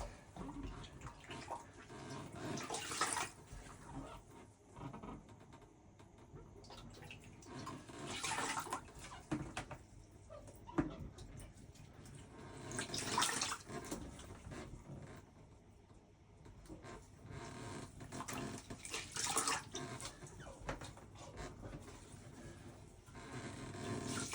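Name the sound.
toilet flushing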